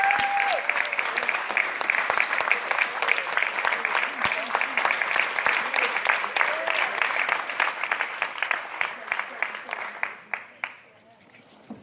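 Sustained crowd applause at a New York mayoral community event in Queensbridge, Queens, steady and dense for about ten seconds before tapering to a few final claps.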